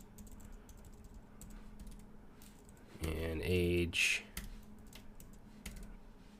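Typing on a computer keyboard while coding a Python and Django project, a burst of rapid clicky keystrokes in the middle of the passage between stretches of someone talking.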